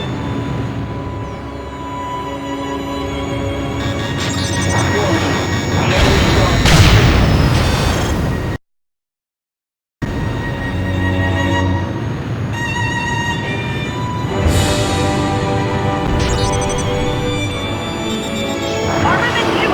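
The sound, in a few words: missile explosions and crashes in an Ace Combat video game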